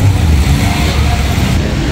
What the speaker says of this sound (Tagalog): Ito naman ang jeep na Indangan.